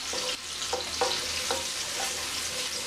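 Pancetta fries and renders its fat in a pan with a constant soft sizzle, broken by several quick stirring scrapes and pops, close but fairly quiet.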